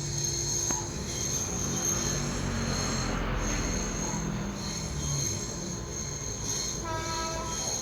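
A video game train in Trainz Simulator rolls along steadily at about 50 km/h on the Solo–Wonogiri line, with a continuous rumbling drone and high steady tones, loud and close, with no talking.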